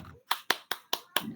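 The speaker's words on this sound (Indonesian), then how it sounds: "Tepuk tangan untuk kelompok 1." A classroom group claps five sharp, evenly spaced times in a quick rhythm, each clap distinct and close, with faint room noise between.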